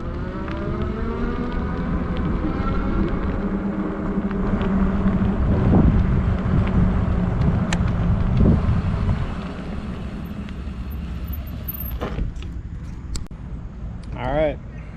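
A Rad Power electric bike riding on its throttle, a steady motor whine and wind rush that swell and then ease off, with a voice speaking briefly along the way.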